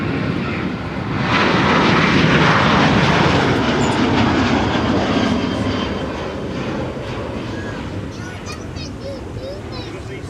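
A heavy Aer Lingus airliner departs MSP airport with a loud, broad jet roar that swells to a peak and then slowly fades into the distance, heard outdoors from afar.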